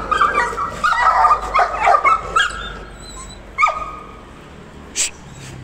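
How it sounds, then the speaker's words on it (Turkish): Dogs snarling and yipping in a scuffle on a side street, a burst of growls and whimpers up close, then a few sharp separate barks and yelps as it quiets. "Köpeklerin kavgası."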